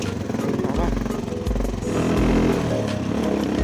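A motorcycle rides a short, rough off-road stretch near Mustang's Syang village, its engine revving and rumbling loudly up close with bumps and clatter, while someone talks over it.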